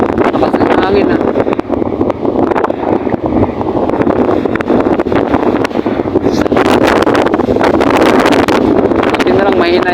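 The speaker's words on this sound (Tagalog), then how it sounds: "Grabe lakas ng hangin." Strong wind buffeting the microphone at a sea wall in Mulanay being eaten away by the sea, a loud continuous roaring rumble with gusty surges, with a voice talking over it.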